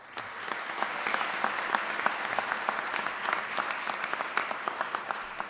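Audience applause at a women of distinction awards ceremony, steady crowd clapping with crisp individual claps standing out, moderately loud and sustained throughout.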